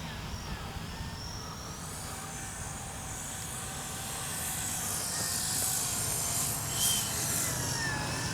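A radio-controlled P-51D warbird model plane comes in to land on a grass field, its steady propeller and engine whine growing slightly louder toward the end, heard from a moderate distance.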